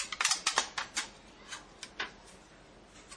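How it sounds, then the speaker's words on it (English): Scissors cutting through a thin aluminum soda can, a string of sharp, crisp snips and crunches, irregularly spaced and fairly close, with no talking. "Then you want to cut off the bottom and then cut it off sideways."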